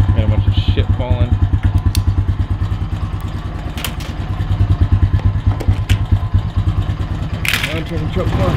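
A ranch quad ATV with a homemade snorkel cranks and chugs in rapid rhythmic engine pulses with clattering, loud and close, while a person talks over it.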